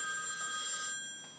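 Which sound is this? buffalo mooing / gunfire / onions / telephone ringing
telephone ringing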